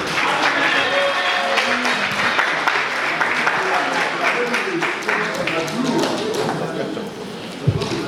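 Applause fills a 60th birthday celebration hall in Los Angeles, a dense, sustained crowd clapping with scattered sharper claps, fairly close, with voices mixed in and a brief thump near the end.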